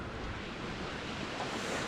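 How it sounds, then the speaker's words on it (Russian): Sea surf rolls onto the Crimean coast in a steady, broad wash of noise, distant and fairly quiet, with some wind rush and no voices. "Каждый день слушать шум прибоя."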